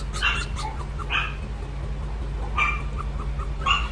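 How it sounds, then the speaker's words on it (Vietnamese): A three-week-old Pomeranian mix puppy gives a few short, high whimpers and yips, spaced apart over a steady low hum, close by with no talk. "Em này là em chó fox supply nha các bạn."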